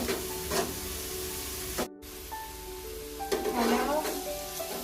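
A frying pan of spicy noodles crackles and sizzles continuously up close, with a brief cut partway and a louder burst of hissing sputter near the end as water goes in.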